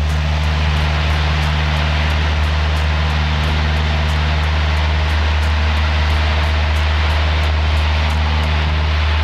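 A small propeller airplane roars at takeoff power on the runway at Orlando Executive, a loud, close, steady engine drone with a strong low hum, with no speech.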